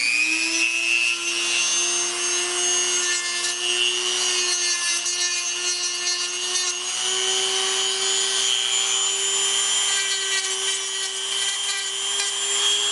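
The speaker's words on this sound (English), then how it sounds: "I've just got a little Dremel, and it makes pretty quick work out of rounding these pieces" A small Dremel rotary tool rounds over wooden fish fin pieces, a steady high whine with a slowly wavering pitch and a gritty sanding rasp running continuously and close for the whole stretch.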